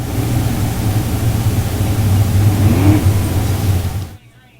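Race car engines droning and revving around the Indianapolis Speedrome figure 8 track, a steady loud roar with a passing rise in pitch, cutting off abruptly near the end.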